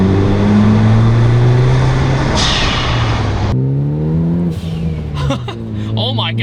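A Ford Focus ST fitted with a big turbo accelerates hard, its engine revving loud and close with a climbing tone through a gear change, heard through an open window while a voice speaks over it.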